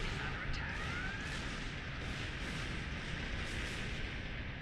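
A metreon gas cloud detonated in Star Trek Online, rendered as a sustained, dense rumbling blast that stays loud and steady throughout, with a thin rising whine near the start.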